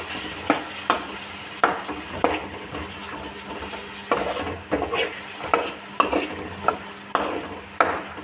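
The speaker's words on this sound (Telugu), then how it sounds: "ఈ పోపులో వేసుకొని చక్కగా కలుపుకోవాలి." Boiled chickpeas are stirred into hot tempering in a pan: a soft sizzle underlies a steady series of sharp scraping stirs, about one every second, close and clear.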